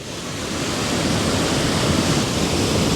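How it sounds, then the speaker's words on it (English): Wind gusts through a rocky channel beside waterfalls at a landscape photography location, a loud, steady rushing roar that builds slightly and blends with the constant hiss of falling water, with no voices. "the wind's actually blowing in through this channel"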